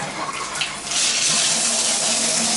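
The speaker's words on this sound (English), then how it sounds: "And now what we really want to check is the water pressure on the shower. We'll just go with the hot water." Hot water from a shower in an apartment comes on after a brief lag, then gushes in a loud, steady, close spray.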